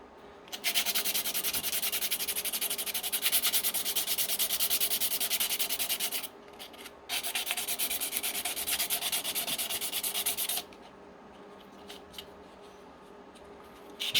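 Close sandpaper rubbing on the underside and flat chest part of a Johnny 5 toy model kit, steady rapid scratchy strokes in two long bursts with short pauses between.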